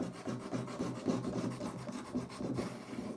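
A pipe-lagging saw blade is sharpened by pressing it down between two white ceramic rods in 2 to 3 inch strokes, making a close, steady rasping rub repeated in quick, even back-and-forth passes.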